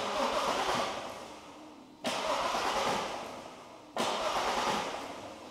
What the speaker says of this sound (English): Let's try and crank it over to build a bit of oil pressure.